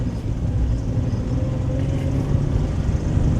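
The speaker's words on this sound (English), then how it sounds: "You can hear when an engine starts winding up a little." A stick-shift Geo Metro engine winding up in gear, a steady low droning rumble from inside the car with a gradual, faint rise in pitch.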